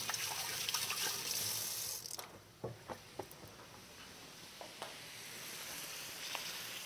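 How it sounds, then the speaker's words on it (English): A kitchen tap runs steadily for a quick hand wash, with soft splashing and a few faint clinks and taps, heard at a low level without talk. "I'm gonna let that go while I do myself a quick hand wash"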